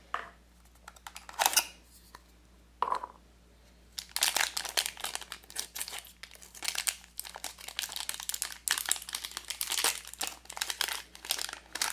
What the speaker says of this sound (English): twist this open so you don't even need to cut it.